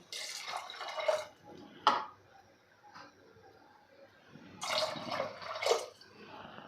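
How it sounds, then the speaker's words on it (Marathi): About one and a half cups of water are poured into chickpeas in a pressure cooker for chole masala, giving short splashing gushes close by, with one early burst and a longer pour near the end and quiet gaps between. "त्यानंतर आपल्याला दीड कप पाणी घालायचं आहे"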